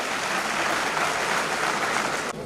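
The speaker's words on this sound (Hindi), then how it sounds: "तालियों की कट्टर ध्वनि से अभिनंदन करें।" Audience at a student award ceremony held by a charitable trust in Udaipur honors a group of students with brisk, dense clapping that continues steadily for a couple of seconds and then drops off sharply.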